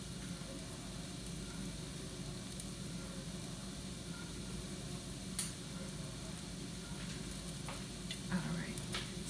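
Onions fry quietly in a pan, a soft, steady sizzle with faint stirring and a few small clicks near the end, no voices.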